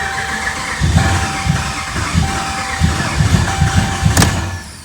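A Ram pickup's Hemi engine cranks over with the throttle body unplugged, its starter churning in a rhythmic series of low pulses as it tries to catch, with a faint whine running beneath.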